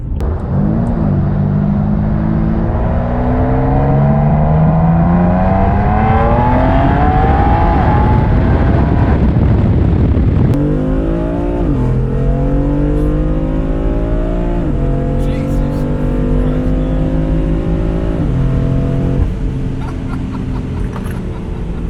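BMW F82 M4 making 650 whp on E85, fitted with a larger single mid pipe exhaust, accelerating hard through several gear changes, the deep, loud drone climbing in pitch with each gear and breaking at each shift.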